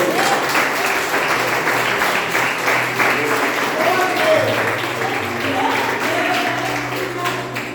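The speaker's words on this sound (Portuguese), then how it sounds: "você aplauda o Senhor em nome de Jesus." A church congregation applauds during a Portuguese-language worship service, a dense, steady wash of clapping with voices calling out over it throughout.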